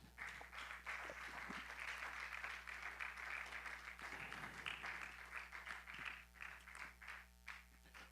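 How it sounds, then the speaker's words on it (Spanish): A church congregation applauds in sustained, dense clapping that is faint and distant. It goes on steadily for several seconds and thins out into scattered claps toward the end. "Denle palmas al Señor Jesús."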